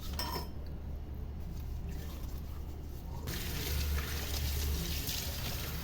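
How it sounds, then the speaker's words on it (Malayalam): Sea bream being washed and rubbed with salt under running water, heard as a steady close tap stream whose splashing grows louder and busier partway through. "ഉപ്പിട്ട് ശരിക്കും ഒന്ന് അതിൻ്റെ പുറമൊന്ന് അരച്ച് കഴുകാം."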